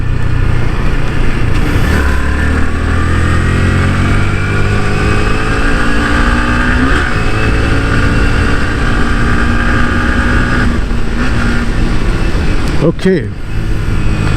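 A Yamaha R15 v3 150cc motorcycle engine pulls through the mid-range, its rising whine climbing steadily in pitch as revs build, loud and close under wind rush, with a rider briefly speaking.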